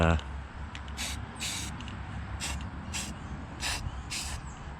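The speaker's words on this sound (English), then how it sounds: "spray some paint down in there" Several short hissing bursts of a spray paint can, each about half a second, spaced irregularly over a low background rumble, spraying paint into a 1940 Ford engine bay.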